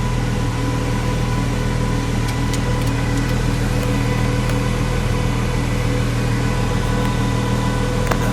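A 2017 Ford GT with a 650 hp V6 turbo engine runs steadily, a constant broadband drone and hum from inside the cabin, with no speech over it.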